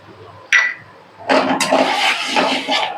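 Lentil cooking water is poured into a pan of Bengali cholar dal, a short clink followed by a loud, close splashing gush that settles into bubbling and sizzling for a couple of seconds.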